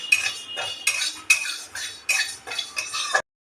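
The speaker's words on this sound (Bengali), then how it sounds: "ডালটা ড্রাই রোস্ট হয়ে গেছে দেখো" Moong dal is dry roasted in a hot kadai, heard as a quick series of close metallic scrapes and clinks of a spoon against the pan, about seven strokes, ending abruptly.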